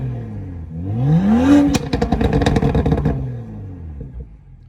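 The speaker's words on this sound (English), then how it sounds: "we did do an exhaust clip" A BMW M2 exhaust rises in a swelling rev, then breaks into a rapid crackling, popping burble for about a second before settling back to a lower idle-like drone, close and loud with no voices.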